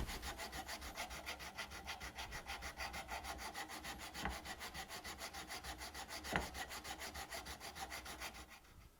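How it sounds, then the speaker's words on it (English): A sanding block rubs back and forth over a wooden guitar headstock in steady, even strokes, a close, continuous rasp with a couple of sharper scrapes, and no talking. "And then just sand down the headstock with a block."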